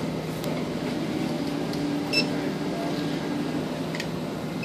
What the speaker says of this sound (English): It's an explosive detection system